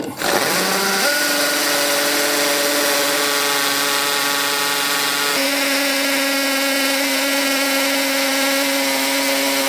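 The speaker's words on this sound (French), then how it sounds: "Et ensuite, je perce au travers du trou avec la mèche à béton." A power drill with a masonry bit boring through a pre-drilled hole into a concrete floor: a loud, steady high-pitched whine that spins up at the start, shifts pitch partway through and runs continuously, close and alone.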